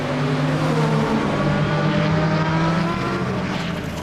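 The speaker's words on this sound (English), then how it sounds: "Webb up to fifth, Bosman down to sixth, and the black BMW now looks to be the one on the move." Race cars roar past at Zandvoort circuit during a Supercar Challenge round, engines loud and continuous with layered harmonic whine from several cars close together.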